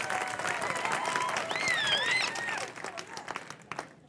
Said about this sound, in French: J'aimerais ça qu'on leur donne une bonne main d'applaudissements